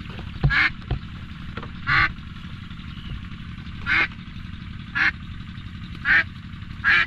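Domestic ducks being herded quack in short bursts, six or so loud honking calls spaced about a second apart over steady background rumble.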